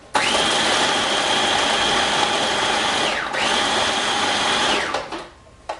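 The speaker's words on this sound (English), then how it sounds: "we're going to give it a quick whiz and scrape down the sides as we incorporate it" A blender whirs through protein pancake batter in a steady high whine for about five seconds, with a brief dip in pitch midway before it winds down at close range.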